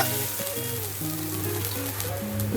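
Garlic and ginger paste fries in hot oil for a raw jackfruit curry, a steady close sizzle with soft crackling, no voices.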